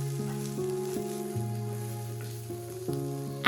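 Ginger garlic paste sizzling in tempered onions for a chicken curry, a steady soft frying hiss with faint crackles running throughout beneath background music, no talk.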